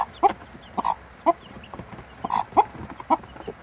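Araucana chickens cluck in their coop with a scattered series of short, close clucks and squawks in an irregular rhythm over a quiet background, with no talking.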